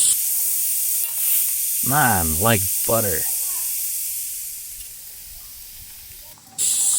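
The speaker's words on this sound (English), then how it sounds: "I actually forgot to fix the leak in the tubing for this shot" A leak in the tubing of a LEGO crusher hisses as a steady, fairly loud high spray that runs throughout, with someone speaking briefly over it before the hiss fades and then returns.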